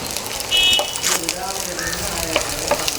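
Onion, garlic and ginger sautéing in a hot pan give off a steady close sizzle, with occasional stirring scrapes and clinks of a utensil against the pan.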